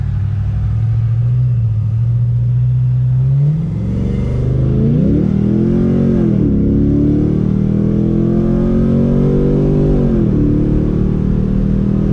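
A 2012 Chevrolet Caprice PPV police car with an aftermarket camshaft, long-tube headers, full exhaust and a stall converter rumbles at a lumpy idle, then pulls away, its engine rising and falling loudly through several revs with no talk.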